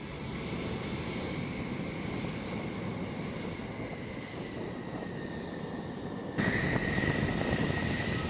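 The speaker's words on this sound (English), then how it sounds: "Throttle forward. The engines roar. The aircraft surges ahead, gaining speed." A military aircraft's engines roar steadily at a distance, a broad rushing drone with a sustained whine that swells louder near the end as the jet surges forward for takeoff.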